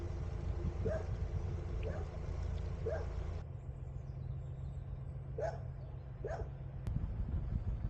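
A dog barks several times in short sharp yelps, spaced across the clip, set against steady low engine or water rumble at a canal lock, with a faint click near the end.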